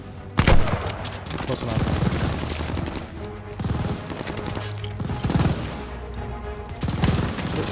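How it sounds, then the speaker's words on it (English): Enemy soldiers' gunfire in the WWII shooter Call of Duty Vanguard: a sharp close shot opens, then repeated bursts of rifle and machine-gun fire roll in waves while a voice speaks briefly. "As I'm getting shot by like three guys that are over there."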